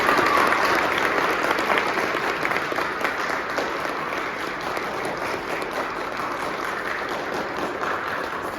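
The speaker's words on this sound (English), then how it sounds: "So if I could get a little round of applause" Applause from the audience at a Minisink Valley Board of Education meeting: a dense, fairly close burst of many people clapping that holds steady for several seconds, then eases slightly while it continues to the end.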